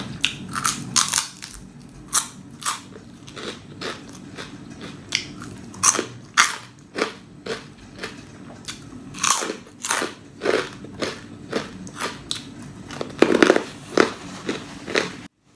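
Crispy pork rinds crunched loudly alongside thick coconut-milk noodle curry sauce poured over rice noodles, with repeated close bites and crackling chews in a steady rhythm, no talking.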